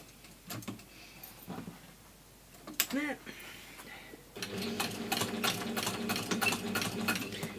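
A sewing machine stitches a PU trim case in a craft workshop, a few brief bursts first and then a steady, fast mechanical whirring run that continues to the end, with talk in the background.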